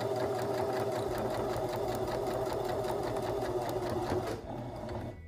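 Sewing machine stitching along the outer edge of a cloth face mask at an eighth-inch seam, a steady, close, loud motor whir and rapid needle chatter that runs continuously before easing slightly near the end.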